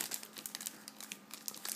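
A Pokemon Platinum Arceus blister pack is pried open by hand, its plastic crinkling and crackling in quick, uneven bursts close up, with no talking.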